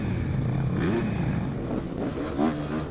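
A motocross bike roars through an onboard lap of the new elite track at Saint-Thibéry, its engine revving up and down continuously, loud and close.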